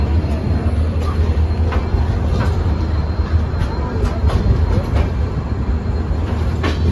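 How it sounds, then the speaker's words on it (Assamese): A superfast express train from Guwahati to Kolkata runs at speed with a loud, constant rumble and periodic clacks from wheels on rail joints, heard up close from on board. "6 মান্থৰ মূৰত আজি ট্ৰেইনত জাৰ্ণি কৰি আছোঁ"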